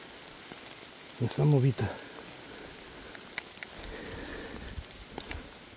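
Steady rain falling through a forest where young porcini mushrooms grow, a soft continuous patter throughout, with a brief spoken exclamation early on and a few faint rustles.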